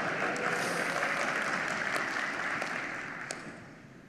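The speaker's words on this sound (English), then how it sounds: "Oh, applause." An audience at a Microsoft Ignite 2016 technical conference session claps steadily, a dense wash of applause that gradually fades toward the end, with no speech over it.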